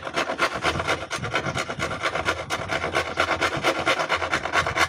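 A wood rasp shapes the curved edges of deck head panels around a quad, making rapid, steady rasping strokes up close with no pauses or talk.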